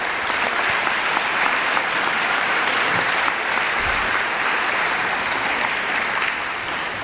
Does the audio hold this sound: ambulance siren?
no